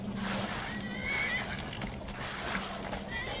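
A horse in a video game lets out a brief, high whinny over a busy, noisy game background with continuous rumbling ambience.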